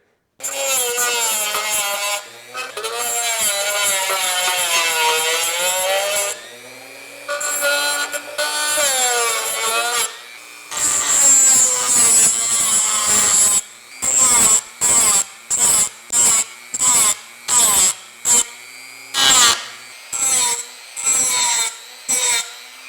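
A rotary tool grinds off small rivet heads on an antique Motorola 68L11 radio. The loud, close, rasping whine first runs in long passes, then breaks into a rapid series of short bursts.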